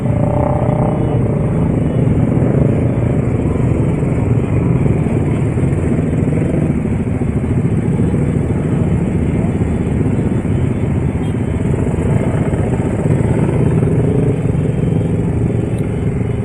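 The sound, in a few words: motorcycles revving engines in the street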